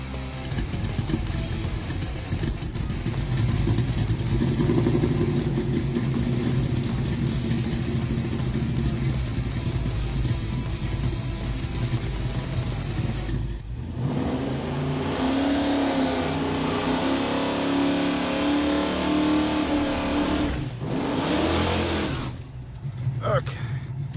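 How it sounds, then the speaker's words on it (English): Street machine car with a crop-duster conversion doing a burnout after a carburetor jet change, engine revving hard and loud in a sustained roar, dropping briefly around the middle before surging again and cutting off near the end. "Looking at that burnout, it's obvious the car still makes pretty good torque."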